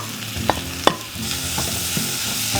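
Onions and green chillies sauté in oil in a pan for a pork curry, giving a steady close sizzle broken by a few scrapes and stirs of a spoon.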